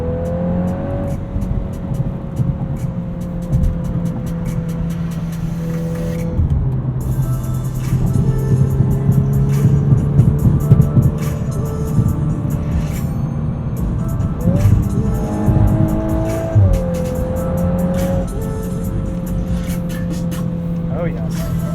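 2022 Volkswagen Golf R with DSG accelerating in race mode on the highway, engine droning and rising through several gear changes, heard from the cabin under steady road noise while someone talks over it.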